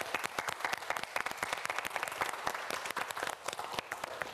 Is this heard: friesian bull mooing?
no